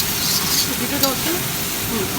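A rice mixture frying in a pan for a Chinese-style rice dish, with a steady sizzle and scraping stir strokes, with a voice talking over it.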